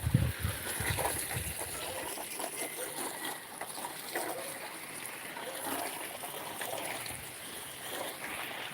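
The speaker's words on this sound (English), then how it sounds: "holding the hose and watering the garden" Soft spray and trickle of a garden hose watering plants, a faint, continuous outdoor splash of water running steadily throughout.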